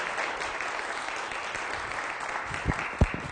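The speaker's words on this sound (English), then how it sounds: "Give yourselves here locally a big round of applause." Applause from a local audience at a live broadcast in Stony Plain, a steady wash of clapping heard at a distance, with a couple of louder claps near the end.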